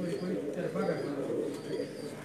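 Pigeons coo in soft repeated low calls, close by, with faint chirps and background murmur mixed in.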